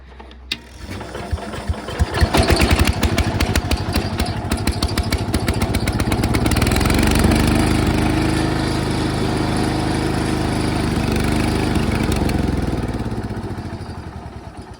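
A Cub Cadet lawn tractor engine being revived sputters and catches, then runs loudly and steadily, a close, rough, throbbing drone that settles into a sustained roar and fades slightly near the end.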